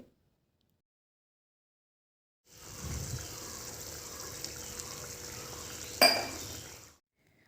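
A spoon scrapes and stirs through hot water and spiced potato-pea masala in a pan, a soft continuous swishing after a silent start, with one sharp metallic clink near the end.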